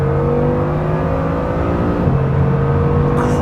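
A Bugatti Chiron Super Sport pulls hard on the Autobahn, its engine droning loud and steady from inside the cabin with a continuous rising hum.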